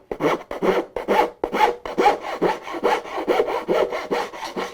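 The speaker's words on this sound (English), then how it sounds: "And that will actually speed up the sanding a lot." A wooden song stick is sanded by hand close up in quick, rhythmic back-and-forth strokes, about a dozen rasping passes in steady succession with no talking.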